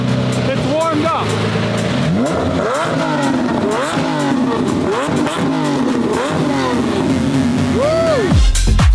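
A Lamborghini engine is revved repeatedly and loudly up close, each blip sweeping up and falling back in quick succession. The final rev is sharp and cuts off abruptly, and voices and cheering are mixed in.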